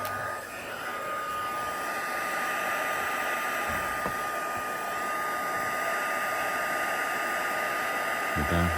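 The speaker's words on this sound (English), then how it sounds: "Before I do anything else, I'm going to get my heat gun." A heat gun runs continuously to melt embossing powder during card-making. It gives a loud, steady blowing whoosh with a thin constant whine and only slight wavering throughout.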